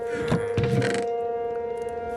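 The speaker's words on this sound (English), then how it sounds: "The tornado siren does like to go off when it's a bit far out." A tornado siren in the Minecraft weather survival game wails with a steady held tone under mechanical creaking, sounding sustained and moderately loud for a couple of seconds.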